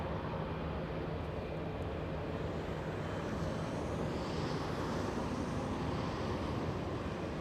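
Philippine Airlines airliner's jet engines roaring while lining up on runway 24 left at LAX airport, a steady broad loud roar held throughout with wind noise and no talk.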